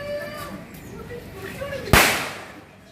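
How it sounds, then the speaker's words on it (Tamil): A single Diwali firecracker bursts with a sharp, loud crack at a roadside outing near ECR, its echo trailing off briefly, heard over background chatter and outdoor ambience. "அப்பா ஒண்ணு வெடிச்சாலும் தரமா வெடிச்சிட்டேன்."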